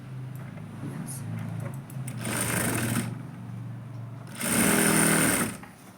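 A sewing machine stitches a court-collar kurti from top to bottom in two loud bursts of rapid whirring, with quieter handling and a low hum between them.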